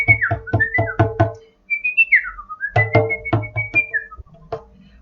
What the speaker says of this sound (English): We've got the sound of a bird whistling.